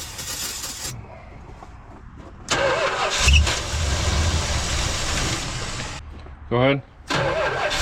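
A 1978 Dodge Ram crew cab engine cranks and runs in loud, close bursts, with stretches of rough engine noise broken by pauses, while people talk over it.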